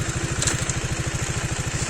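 A motorcycle engine running close by in a rapid, even putter at idle, steady for the whole stretch with no talk over it.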